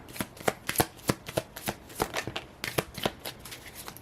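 Tarot cards being shuffled and drawn, a quiet run of crisp, rapid riffles and flicks with irregular card slaps, close up and alone.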